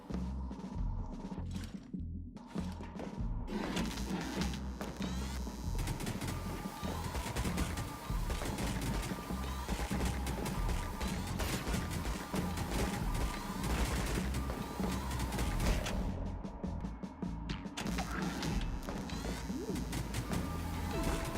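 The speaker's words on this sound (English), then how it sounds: "If you thought all the rockets in that confined space was overwhelming, just watch this cluster of chaos." Turrets in the video game Pid fire dense volleys of rockets on hard mode, a relentless, loud barrage of blasts and crashes overlapping without pause across the whole stretch.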